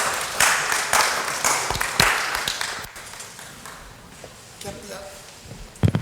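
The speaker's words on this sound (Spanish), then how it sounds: "vamos a recibir a nuestro hermano Ramón con un fuerte aplauso" Church congregation applauding to welcome a preacher named Ramón, a fairly thin burst of clapping that fades after a few seconds into quieter room sound with scattered taps.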